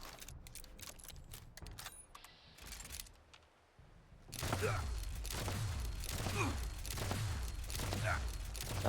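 Gunfire from shooting an enemy in the video game Fallout 76, with rapid sharp shots over clicks and mechanical rattles in the first seconds, then a denser, louder stretch of repeated bursts.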